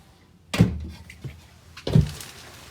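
A solid door closing off the master bedroom of a 2021 Grand Design Transcend Xplor 297QB travel trailer shuts with a heavy thunk, followed by a second firm closing thud about a second and a half later, close and clear.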